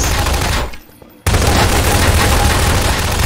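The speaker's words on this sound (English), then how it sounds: "Everyone's shooting at me." Dense, loud gunfire in a GMod Prop Hunt match, a continuous barrage that drops out briefly for under a second, then resumes at full intensity and keeps going.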